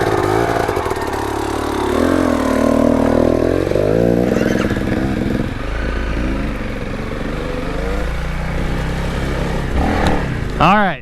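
A Honda CRF300L dual-sport motorcycle rides off-road with a steady, loud engine drone that rises and falls with throttle over rough terrain, along with rattling and wind noise and no clear talk.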